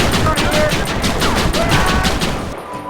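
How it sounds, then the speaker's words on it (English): Rapid Gatling gun fire from Red Dead Redemption, a dense sustained burst of shots running loud and continuous for about two and a half seconds before cutting off, with a voice shouting over it. "What a motherfucking Gatling gun!"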